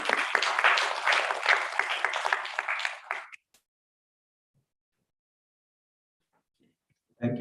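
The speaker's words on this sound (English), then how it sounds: "Big round of applause," A conference audience claps for about three seconds, many hands together at moderate volume, then the applause stops abruptly into near silence.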